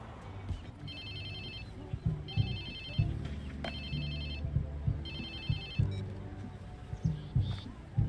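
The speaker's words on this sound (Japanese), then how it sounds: "おい俺誰の電話" Mobile phone ringtone in the Watch Dogs 2 action game, an electronic trill repeating in four bursts over a rumbling car engine and occasional thumps.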